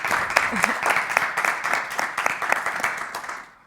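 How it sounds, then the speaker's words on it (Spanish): Steady applause from a studio audience welcoming Mar Pérez Castillo, a neuromarketing expert, as a guest on a podcast, with dense clapping that holds for several seconds and then tapers off near the end. "Un fuerte aplauso."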